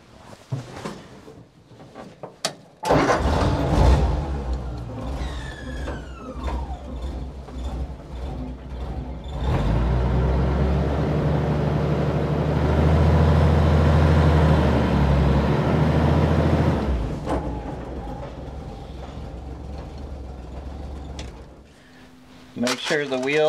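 A vintage off-road wrecker truck rolls onto weighing scales, its engine a steady low rumble that rises in the middle stretch, with mechanical clunks and someone talking before and after.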